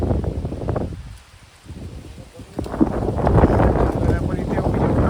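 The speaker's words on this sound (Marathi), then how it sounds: "इकडे खूप वारं सुटलं आहे" Strong night wind gusting through a jungle campsite, a broad roaring rush with leaf rustle that dips briefly near the start, then builds and stays loud, buffeting the microphone.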